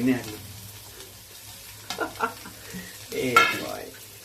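Onions fry in hot oil for paneer bhurji, giving a quiet crackle and sizzle under a few bursts of stirring and utensil clatter against the pan. The sound is close, and no one speaks.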